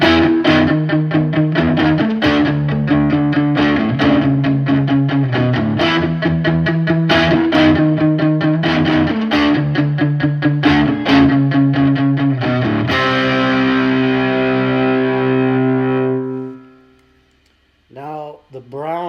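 Electric guitar played through the lead channel of a Boss Katana 50 amp, giving a loud, distorted run of picked chords and notes that ends in a ringing sustained chord, then a brief quiet gap and a few more notes.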